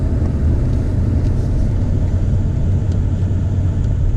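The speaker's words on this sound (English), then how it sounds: "My car can just utterly, it's downshifting on its own." A 2020 BMW M850i engine downshifts on its own on a twisty road, a loud, steady low rumble heard from inside the car with no talk.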